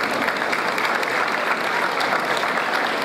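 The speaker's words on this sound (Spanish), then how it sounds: "Fuerte el aplauso." Loud, dense audience applause at a national pageant ceremony presenting the reign's attributes, a steady wash of many hands clapping continuously throughout without a break.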